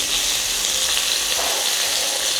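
Ginger and garlic sizzling in a hot pan for a Kerala fish roast: a steady, close, bright crackling fry with no pauses and no talk.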